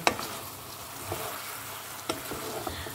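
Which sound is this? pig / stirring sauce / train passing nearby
stirring sauce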